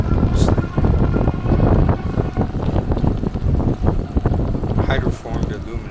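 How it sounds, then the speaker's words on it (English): Heavy wind buffets the microphone in a constant, loud, gusting roar while someone rides an Envo D50 e-bike into a headwind, with a faint voice now and then. "Now this is me going against the wind here."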